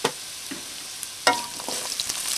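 Chopped onion dropped into hot olive oil with garlic already browned, cooking for arroz valenciana: a soft steady sizzle with a few sharp scrapes and clatters of stirring, fairly quiet and without voices.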